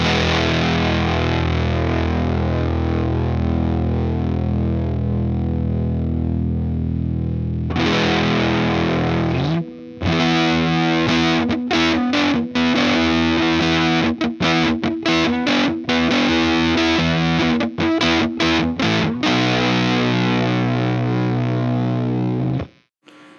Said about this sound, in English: now with the pedal on and my volume all the way up